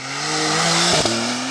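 A Porsche launches hard from a stop on a rough, poorly surfaced road with its wheels spinning, the engine roaring loud and close and rising in pitch, then snapping through a quick gear change before pulling on.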